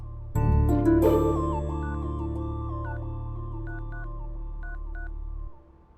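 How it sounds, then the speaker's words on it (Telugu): A telephone ringing for an incoming call, a loud electronic melodic ringtone of repeating tones close by that runs for several seconds and then stops. "మా డాడీ కాల్ చేస్తున్నారు"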